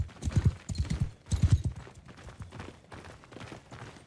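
Horse hooves clip-clopping in the video game Mount & Blade II Bannerlord, a quick steady gallop-like rhythm of soft thuds in two bursts that then fade to lighter steps, heard alone.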